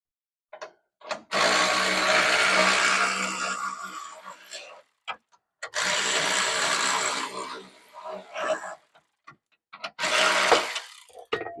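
Electric ratchet loosening bolts while installing a fuel pressure regulator on a GMC Sierra with a 5.3 engine: three loud whirring bursts of several seconds each, separated by short quiet gaps and small clicks, heard up close.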